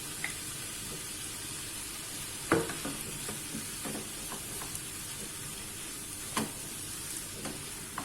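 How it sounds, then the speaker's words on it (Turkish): Tomato paste being stirred into a sizzling pan of eggplant and vegetable bulgur pilaf, with soft steady frying and scattered spoon scrapes and knocks against the pan, fairly quiet and without talk. "Şöyle karıştırıyorum salçamız eşit bir şekilde dağılsın."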